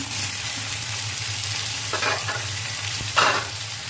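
Onion, potato, beans and eggplant frying together in a pan, a loud continuous sizzle with scraping stirs of a spatula, and no talking.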